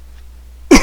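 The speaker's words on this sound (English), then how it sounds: "excuse me, I'm kind of sick, so got a cough." A single short cough or throat clear bursts out near the end after a near-silent pause.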